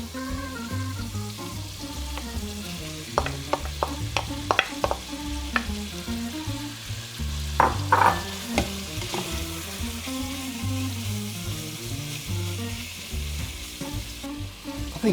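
Onions frying with browned beef for Hungarian goulash: a constant close sizzle, with a quick run of sharp spoon clicks and scrapes against the pot midway, then the steady frying carries on alone.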